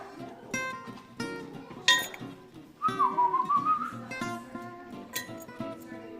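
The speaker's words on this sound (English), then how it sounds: "that whistle you heard was my call" A person whistles to call a small dog in a home kitchen during cooking, a rising then wavering whistle of about a second, heard alongside light clinks of glass and utensils.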